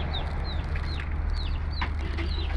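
Chickens cluck and chirp repeatedly while being fed, short rising calls coming in a steady series over a low background hum, fairly close by.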